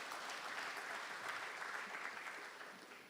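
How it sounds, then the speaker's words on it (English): Audience applause at a technical talent summit, a steady wash of many hands clapping, fairly distant and even, fading slightly toward the end. "we should celebrate that with a round of applause"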